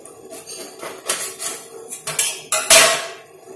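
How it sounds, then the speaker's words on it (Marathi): A knife cuts through a steamed alu vadi roll inside a cooking pot, producing a series of uneven metallic knocks and clanks, the loudest near the end. "तर मी आता आतून हिला कट करते."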